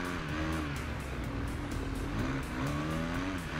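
A Yamaha R6 sport motorcycle accelerating in the racing video game RIDE 2, its engine whine climbing steadily in pitch through the gears, loud and continuous.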